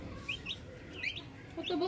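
Young broiler chickens on a small farm give soft, high chirps and clucks, several short calls scattered over a quiet background.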